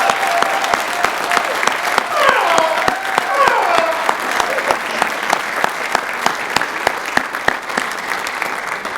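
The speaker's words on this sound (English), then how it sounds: "give a really loud applause for that effort that they've given us" A crowd at a college volleyball national championship ring ceremony gives loud, sustained applause. Sharp individual claps stand out from the dense roar, and a voice or cheer rises briefly near the middle.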